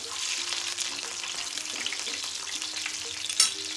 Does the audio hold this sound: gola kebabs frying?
yes